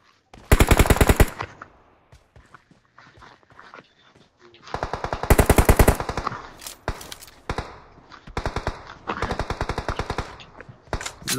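Rapid automatic gunfire in the battle royale game BGMI, with loud bursts of closely spaced shots separated by brief pauses and scattered single shots, heard up front with no talk.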